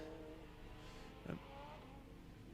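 A Peugeot 205 rally car on a Mull rally stage passes at a distance, its engine a faint steady drone with a brief louder swell midway.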